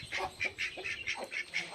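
Ducks quack in a quick series of about eight nasal calls over less than two seconds, fairly faint and nearby with no talk.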